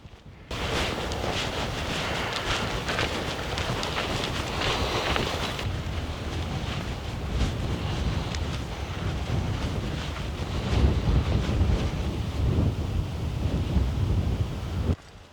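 Strong 40 mph gusts buffet the microphone on a windy night of truck camping, a loud, rough, continuous roar that swells and eases over fifteen seconds without any talking.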